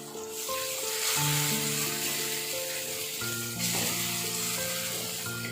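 Masala fries in a pan for a Tamil fish curry, a steady close sizzling hiss that runs throughout under quiet background music, with no voices.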